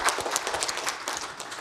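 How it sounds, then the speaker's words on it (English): An audience at a women-in-aerospace event applauding, steady dense clapping from a crowd at moderate distance, brief and continuous. "I think you should actually give yourselves all a big round of applause"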